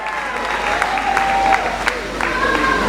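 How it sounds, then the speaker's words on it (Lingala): A crowd applauds a performer at a Congolese comedy stage show, steady clapping and cheers filling the hall with a sustained tone ringing through it. "nous allons sous vos applaudissements"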